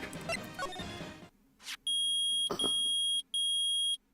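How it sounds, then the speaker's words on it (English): A metal detector in Phoenix Wright Ace Attorney sounds loud, sustained electronic beeps in two long bursts with a brief gap, after some game music and a short whoosh. "It's beeping. The metal detector's found something."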